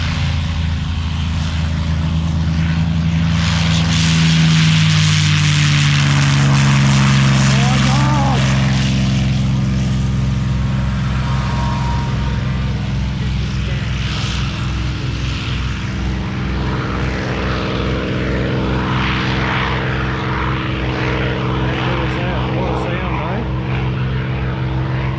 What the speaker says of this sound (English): about to have a P51 Mustang turn take off